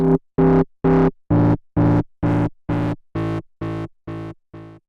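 Eleven synth notes pulse in a steady rhythm through distortion at a high drive setting, heavily saturated, harsh and buzzy, each fading slightly in loudness as the sequence goes on.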